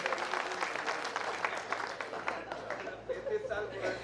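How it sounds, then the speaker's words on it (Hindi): Hall audience at a Hindi comedy kavi sammelan breaks into lively applause, crowded clapping that gradually thins toward the end, with scattered chuckles and murmured voices mixed in. "जरा बजा दीजिए ताली"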